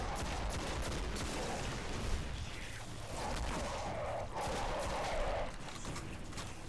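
Rapid bursts of gunfire from the video game Destiny sound continuously at moderate level, with dense overlapping shots and brief whooshing swells.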